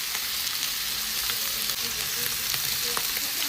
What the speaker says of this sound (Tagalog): fry lang to hanggang maging golden brown